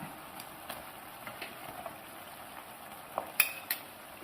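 A spoon scrapes and clinks in a pan as asafoetida powder is mixed into Kerala-style ginger curry, soft intermittent stirring taps over a faint low sizzle, with a couple of sharper metallic clicks near the end.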